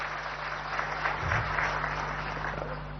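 A seated crowd applauds steadily for several seconds at a government ceremony inaugurating a cyber building, attended by police officials. The clapping blends into a dense, even wash over a low electrical hum, with no voices.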